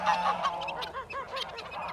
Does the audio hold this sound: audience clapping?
no